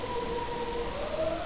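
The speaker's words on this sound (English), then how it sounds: "I hate police cars in this area because they're just so damn loud." A police car siren wails steadily in a busy area, a loud sustained rising tone with no voices over it.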